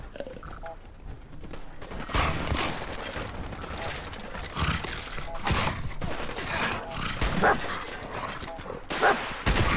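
A dog barks in the video game Fallout 4, its yips and woofs tangled in dense, loud gunfire and combat noise that runs without a break.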